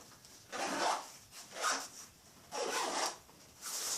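Zippers on a Hazard 4 Second Front backpack being pulled back and forth in four close, steady rasping strokes with short pauses between them.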